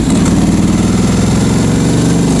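Ducati Hypermotard 1100 motorcycle engine idles close by with a loud, steady, throbbing pulse and a slight rise in revs, with no talking over it.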